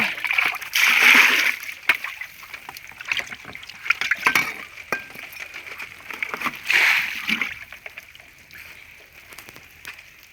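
Homemade fermented liquid fertilizer splashes onto the ground around date palms on a farm, in broad sloshing pours and smaller drips. The splashes are close and fairly loud, and someone speaks between them.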